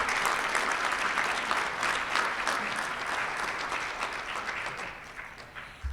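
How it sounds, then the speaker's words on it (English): Sustained audience applause fills a Rotary club meeting room, loud and steady throughout before tapering slightly near the end. "Let's give Jack another round of applause."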